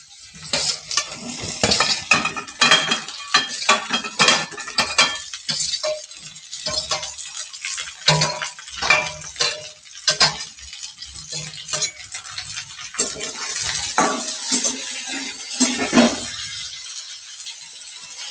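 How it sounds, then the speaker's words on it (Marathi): Okra (bhindi) being tossed into a pan with green chillies and stirred, giving steady clatter and scraping of utensil on metal with a light sizzle underneath, loud and close for the whole stretch, no talking. "आता आपण त्याच्यामध्ये भेंडी टाकून घेऊ."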